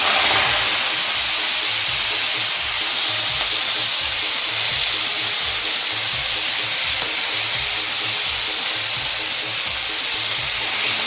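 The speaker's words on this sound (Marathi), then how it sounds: "आपलं तिकडे तेल पण गरम झालेले आहे। आता ही भाजी घालायची आहे।" Washed fenugreek leaves hit hot oil in a pan, giving a loud, continuous, close hiss of frying that holds steady throughout without speech.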